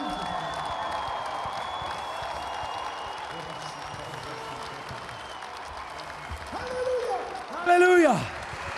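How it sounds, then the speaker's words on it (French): A revival meeting congregation claps steadily under a preacher's voice, a broad wash of applause throughout that swells near the end as a sung or shouted exclamation rises over it. "wir applaudieren mal. Applaudissons pour Jésus."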